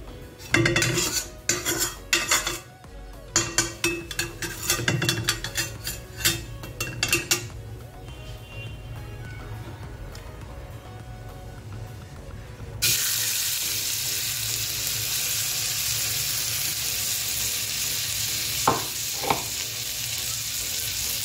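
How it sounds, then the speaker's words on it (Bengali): Leftover coconut milk residue fries in hot oil for a prawn malai curry, with clattering utensil and stirring knocks over the first seconds, then a steady, loud sizzling hiss that broadens and holds to the end. "লাল লাল করে ভেজে নেব।"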